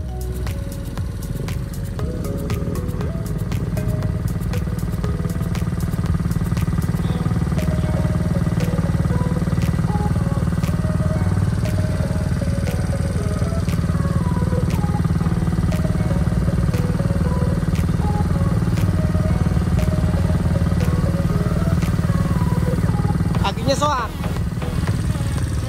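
A motorcycle engine runs loud and close on a forest trail, holding a steady drone with some rising revs and rattles while people talk over it.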